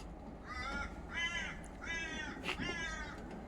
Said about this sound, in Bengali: কাক পাখি সব ডাকতেছে